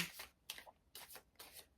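Tarot cards being shuffled by hand, four quick riffling bursts in a steady rhythm, close and crisp in a quiet room.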